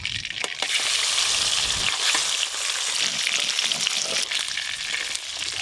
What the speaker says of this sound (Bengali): যা মাছ আছে একবারেই ভেজে নেব